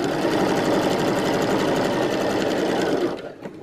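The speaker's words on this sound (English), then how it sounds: "And I'm going to sew all around." A sewing machine stitches Christmas tree skirt fabric in a fast, steady, loud whir of needle strokes for about three seconds, then slows and stops, with no talking.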